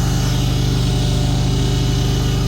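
A golf course greens mower's engine runs close by, giving a loud, steady droning hum with a fast, even pulse that continues without a break, with no talking.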